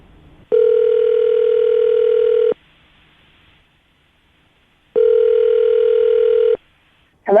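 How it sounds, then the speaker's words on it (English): Two long, steady ringback tones separated by silence, a loud electronic telephone tone heard while a call connects. "we're going to call her right now, see if we can get her on the phone"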